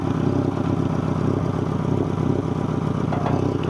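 The engine of a 1996 Geo Tracker runs continuously, a close, rough, clattering idle with a steady low throb and no voices over it.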